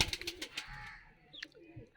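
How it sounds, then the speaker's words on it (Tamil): A Karna pigeon in a breeding loft gives soft, low cooing after a few scrappy rustling bursts, faint and close in a quiet space. "நல்ல புறா."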